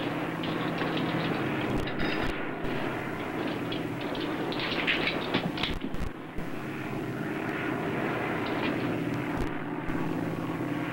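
A steady, droning aircraft engine hums in flight inside a plane, a continuous low roar with a few brief dips and clicks and no talk over it.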